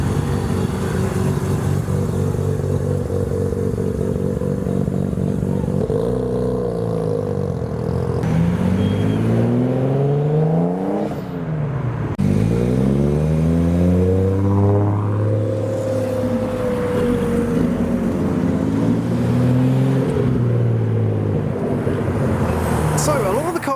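Mazda RX-7 rotary engine revving hard while pulling away from a Japanese car meet, loud and close, with repeated rising and falling rev sweeps over a steady roadway rumble.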